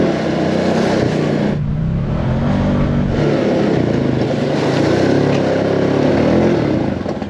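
A Can-Am Outlander Pro Hunting Edition ATV rides along, its engine droning steadily and loudly up close, pitch shifting slightly as it moves, with wind and rumble throughout.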